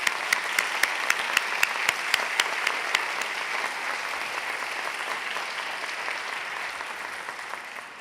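An audience at an afternoon equality tea event gives a round of applause, opening with a few loud, evenly spaced claps near the microphone over dense crowd clapping that continues and slowly thins.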